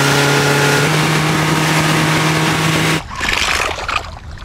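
A fishing boat's outboard motor runs at a loud, steady hum on the water for about three seconds, then shifts to a rougher, fading churn as the boat moves off.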